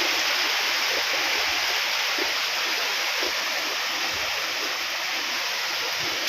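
Floodwater flows past a farm, a steady rushing wash that is broad and even and holds at a constant level from start to finish.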